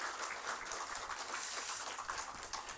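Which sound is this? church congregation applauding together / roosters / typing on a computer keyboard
church congregation applauding together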